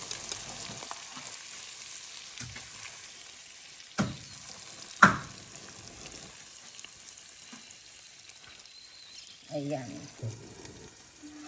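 Egg stirred into okra and bitter gourd frying in a pan, a quiet ongoing sizzle broken by a couple of sharp utensil knocks, with brief speech near the end.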